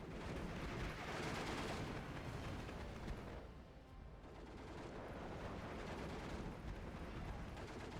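An off-map artillery strike in Steel Division 2 brings a sustained, rumbling barrage of distant blasts merging into a dense roar, dipping briefly midway before building again.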